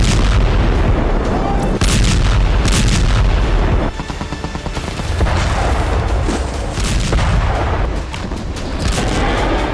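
Bomb blasts strike an Israeli army convoy in Jenin, loud booming detonations and cracks following one another in a dense, chaotic barrage, with brief lulls between heavy impacts.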